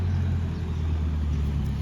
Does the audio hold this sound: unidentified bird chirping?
no